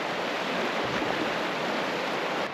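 Stream water rushing steadily beneath a bridge along a trail at Devil's Bathtub, a continuous broadband wash of flowing water heard close and alone, with no talking.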